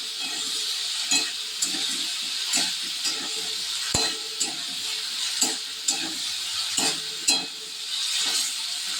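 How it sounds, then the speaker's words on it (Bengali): Ginger and garlic paste sizzles in hot oil in a pan, a steady bright hiss broken by repeated scraping stirs of a spatula, close-up with no voices. "এবার বেটে রাখা আদা এবং রসুন দিয়ে দিলাম। এবার একটু কষাতে থাকবো।"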